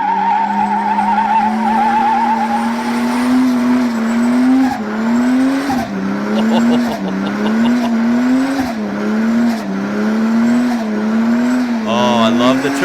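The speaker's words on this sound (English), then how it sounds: "AU Best Ford Barra Inline 6 Sound Compilation with Burnouts" A Ford Barra inline six engine revs hard through burnouts with turbo flutter, a loud, continuous rising and falling engine note over constant screeching tyre squeal.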